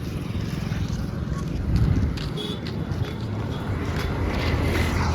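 Steady broadband rumble and wind buffeting, as of a boat moving over water on a pilgrimage walk to the Chotila temple, continuous and fairly loud with a louder surge midway and no clear talk.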